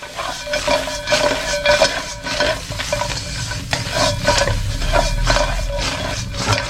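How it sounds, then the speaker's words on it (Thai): Dried chili flakes being dry-roasted and stirred in a pan for a Thai fried fish with chili and salt, giving a steady sizzle with rhythmic scraping of the utensil, close and continuous. "คั่วซ้ำนิดเดียวก็ได้นะฮะ"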